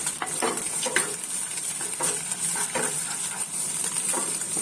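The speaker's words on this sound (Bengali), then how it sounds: "এইটাকে সমানে এরকম করে নাড়বো" Food is stirred in a sizzling frying pan, with a steady hiss of frying and scattered scraping strokes of the utensil against the pan.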